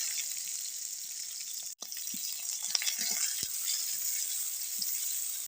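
Steady hiss of chopped onions frying in hot oil until browned, continuous sizzle with a brief break and a few soft stirring knocks.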